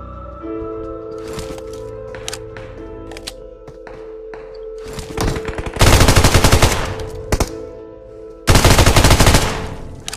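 Famas rifle fire in the mobile shooter PUBG Mobile, heard as two loud close full-auto bursts with scattered single shots and clicks before them.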